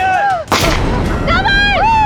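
One loud, sharp gunshot cracks out early, surrounded by a wailing, crying voice before and after.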